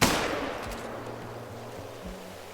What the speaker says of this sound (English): we're gonna try to take him out with the 270, which probably requires a decent spine shot